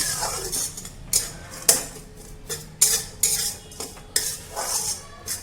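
Peanut chutney is mixed in a pan with a metal spoon, making a series of sharp, close clinks and scrapes in an irregular rhythm with quiet gaps between strokes.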